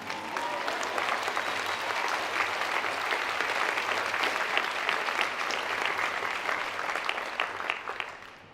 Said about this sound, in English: This is where you clap.